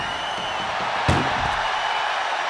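A single sharp slam of a door shutting during a WWE 2K25 wrestling match, a brief loud thud over steady crowd noise with a fainter knock just after.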